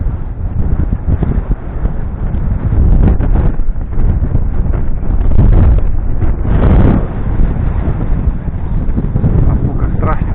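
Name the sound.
strong wind blowing over waves while fishing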